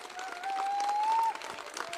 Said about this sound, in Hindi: इतनी कमजोर ताली मत बजाओ, कलाकार को आप ताली के अलावा कुछ नहीं दे सकते।